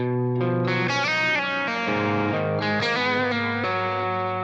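A distorted electric guitar through an amp modeler, cabinet miked with only a Shure 57, strums a few sustained chords, gritty and bright, changing every second or so, loud and close with no voices.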